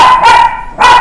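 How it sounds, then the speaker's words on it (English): Dogs bark in two loud, close bursts separated by a short pause, with a sharp, strained tone to each volley and no talking over them. "The dogs are getting stirred up now"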